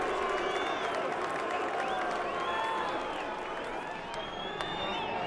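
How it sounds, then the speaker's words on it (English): Arena crowd noise at a WBO heavyweight boxing bout, a steady loud wash of voices with whistles and jeers rising over it, continuous throughout. "More displeasure from the crowd."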